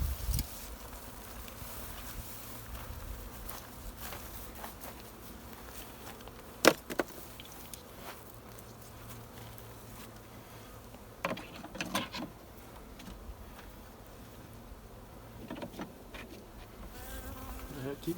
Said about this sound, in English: There's a bee or two on that one.